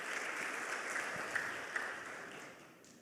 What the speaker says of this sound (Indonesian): Kita tepuk tangan yang meriah dulu buat Tuhan.